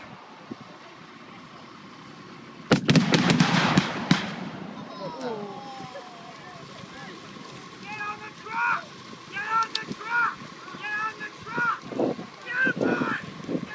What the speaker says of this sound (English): the airstrike obliterates the concealed VC forces with a massive napalm strike